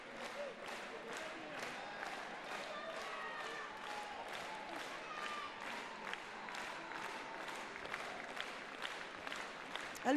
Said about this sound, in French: une salve d'applaudissements pour nos deux championnes